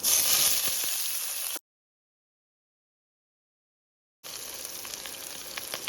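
Mustard seeds and cumin tempering in hot ghee for a toor dal, giving a steady crackling sizzle that runs loud for about a second and a half, drops out completely, then returns more quietly, with no talk.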